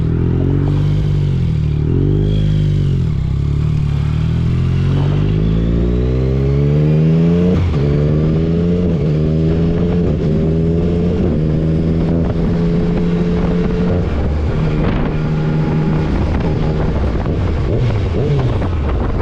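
A Yamaha Tracer 900 motorcycle engine drones steadily while riding, rising and falling in pitch as it shifts and accelerates, with wind buffeting throughout.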